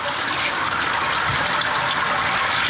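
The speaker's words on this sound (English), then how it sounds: "I'm adding another 16 litres of water" Hot water at 75 degrees Celsius pours steadily onto mashed grains while sparging a Guinness-style stout, a continuous, close rushing splash with no pauses.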